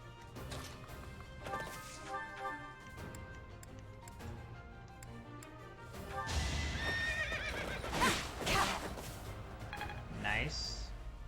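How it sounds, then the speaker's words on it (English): Horses whinny and gallop in the video game Fire Emblem: Three Houses, rhythmic hoof clip-clops running beneath game music before a louder burst of neighing and crashing battle effects takes over. "I love how the horses move in this game."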